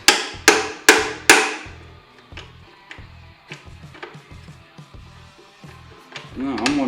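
Hammer tapping on the rear fender of a Suzuki Intruder VS1400: four sharp, loud metallic strikes, then a run of lighter, evenly spaced taps, with a voice speaking briefly.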